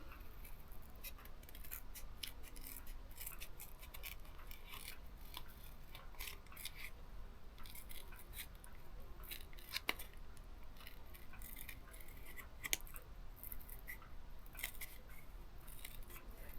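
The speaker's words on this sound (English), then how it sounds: "And then you got to fussy cut these out again." Scissors fussy cutting out small paper pieces, a quiet continuous run of close snips and crisp rustling with occasional sharper clicks, no talking.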